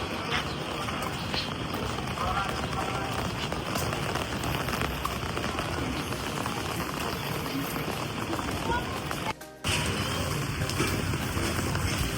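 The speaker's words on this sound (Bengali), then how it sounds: "বৃষ্টি আরো বেড়ে গেল," Heavy rain pours steadily outside a shop, a dense continuous patter on surfaces that stays loud throughout with one brief cut near the end.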